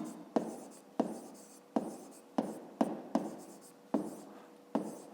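Pen or pencil writing an equation by hand on paper for a fifth-grade maths exercise, heard as close, scratchy strokes in a steady rhythm of about seven bursts with short pauses between.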